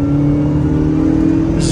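A Saipa Shahin's engine hums loud and steady from inside the car as it accelerates along the road, a continuous drone with no talk over it.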